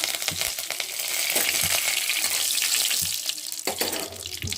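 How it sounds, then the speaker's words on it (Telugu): Thinly sliced onions frying in a pan for tomato rice, a steady close sizzle with faint clinks and stirring scrapes throughout, no talking. "సన్నగా తరిగిన నాన్ ఆనియన్స్ కూడా వేసుకొని ఫ్రై చేసుకుంది"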